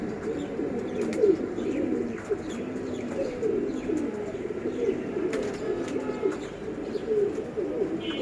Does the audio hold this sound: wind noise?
no